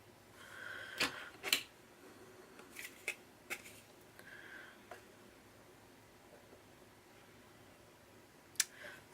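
Paper being trimmed for a mini scrapbook album with Stamperia Music designer paper, heard as a few sharp snips and clicks scattered across a quiet room, faint and close, with gaps of low hiss between cuts.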